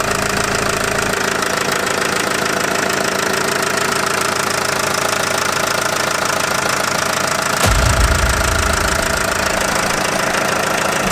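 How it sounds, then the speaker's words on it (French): An engine suspected of being faulty runs steadily for about eleven seconds, giving a loud, continuous idle with a knocking rattle and a brief low surge near the eight-second mark, and no speech. "Il fait du bruit, hein? Je sais pas s'il est bon encore ce moteur."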